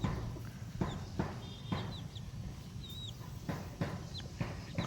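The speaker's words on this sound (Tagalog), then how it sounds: "Atin manok ko." Chickens on a farm cluck softly in the background, several short calls spread out over a quiet outdoor scene, faint and somewhat distant, with no one talking.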